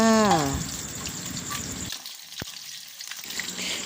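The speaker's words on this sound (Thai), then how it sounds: "หลังจากนั้นเราก็นำปลาไปทอดนะคะ ทอดให้พอเหลืองนะคะ" Snakehead fish frying in hot oil until golden, a steady close sizzle with crackling that fades and resumes, briefly joined by a rising tonal whine at the start.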